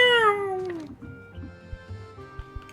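Cartoonish cats meow in Potionomics, a video game: one long, loud, falling meow opens, then softer chirps and short mews follow alongside light plinking game sounds.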